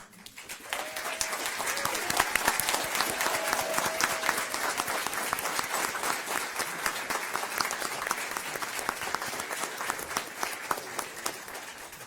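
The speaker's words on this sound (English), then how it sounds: "can I ask you guys to stand so that we can give you a round of applause?" Audience at a school board meeting applauding a girls' team standing in the crowd; dense, continuous clapping that swells in quickly and holds steady, with some voices faintly mixed in.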